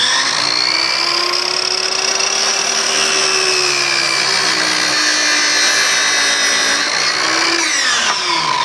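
A 10 amp corded circular saw, running on an off-grid workshop power system, cuts through wood with a loud, steady whine for several seconds, then its pitch drops as the cut finishes, with no speech.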